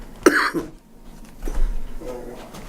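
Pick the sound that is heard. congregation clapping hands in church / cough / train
cough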